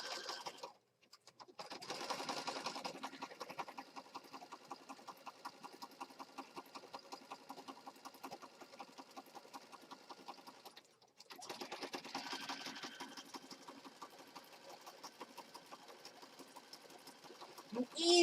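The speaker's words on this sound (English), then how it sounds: "I'm easing it under the machine's foot just a little bit." Sewing machine stitching through a layered junk journal, a steady close mechanical whir with fine rapid needle ticks running in two long bursts separated by a short pause.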